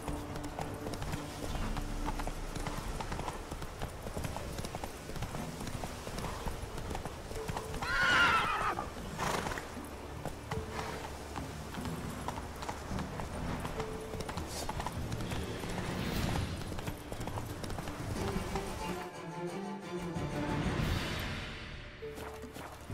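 In a video game, a horse named Roach gallops with steady, rhythmic hoofbeats throughout and lets out a loud whinny partway through, close and continuous over a game soundtrack.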